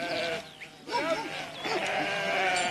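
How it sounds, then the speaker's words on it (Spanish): Sheep bleating in a Macedonian pasture, several wavering bleats close by over a steady outdoor background, no talking. "5 pastores se ocupan de más de 2000 ovejas"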